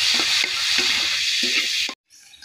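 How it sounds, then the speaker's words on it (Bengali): Shrimp coated in salt and turmeric fry in soybean oil in a wok, giving a loud, close, steady sizzle with a few stirring knocks. It cuts off abruptly near the end and is followed by a quieter hiss. "লবণ আর হলুদ দিয়ে মাখিয়ে রাখা চিংড়ি মাছগুলো দিয়ে আমি লাল লাল করে ভেজে নিব"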